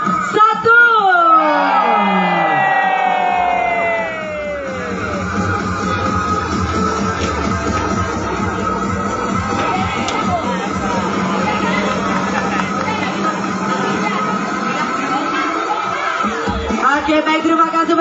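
Crowd of Borobudur Marathon 2022 runners cheering and shouting in unison, a loud rising roar of whoops and yells that settles into sustained crowd noise and chatter, with an amplified voice over it.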